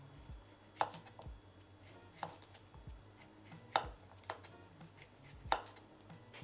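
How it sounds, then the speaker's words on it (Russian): A kitchen knife slices a cucumber into rounds on a cutting board, giving five sharp, separate clicks at slow, uneven intervals, close but quiet against a soft background. "Нарезаем теперь его на такие вот кружочки."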